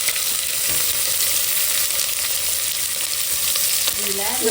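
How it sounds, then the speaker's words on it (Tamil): Onions tossed into a pan of hot oil already frying green chillies, cinnamon, cloves and cardamom, producing a loud, steady sizzle with faint stirring clinks near the end. "பச்சை மிளகா இருக்குது வெங்காயம் போடுறேன்"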